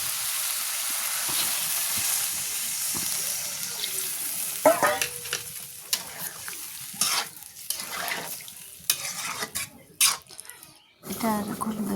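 Chicken meat sautéed and stirred in a pan for a Bengali chicken curry, with a steady sizzle and frying hiss plus irregular scraping and stirring knocks, close and fairly loud, with brief talk in places.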